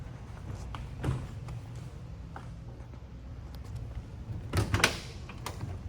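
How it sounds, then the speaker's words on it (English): Quiet surroundings broken by a few soft mechanical clicks and clunks as the door handle of a 1973 Buick Riviera Boattail pops out and is pulled. "I just love how the door handles open up like they do on these cars too."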